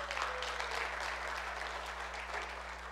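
A church congregation applauds, a soft, even wash of clapping over a steady low electrical hum from the room's sound system.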